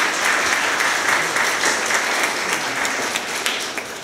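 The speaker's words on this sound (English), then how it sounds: "all of us should give her a big round of applause in absentia" An audience at a coding demo day event applauds steadily, a dense, even wash of clapping that holds at full strength throughout and fades slightly at the end.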